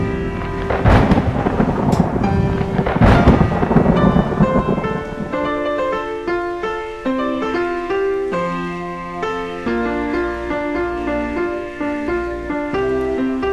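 Thunder from lightning in a thunderstorm, loud rumbling cracks and rolling booms in the opening seconds, then fading under sustained tonal music that fills the rest.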